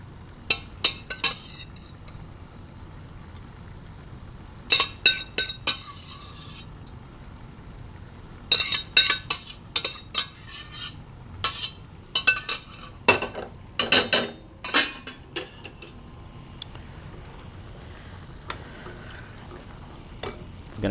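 Utensils clink and scrape against a bowl as adobo broccoli and cauliflower are served over steamed white rice, in bursts of sharp metallic taps separated by quiet pauses, close and clear with no talking.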